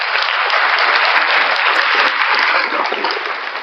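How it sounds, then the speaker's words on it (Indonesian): Loud, dense applause from a church congregation clapping for Jesus during a worship service, steady and sustained throughout with no pause. "Tepuk tangan bagi Tuhan Yesus."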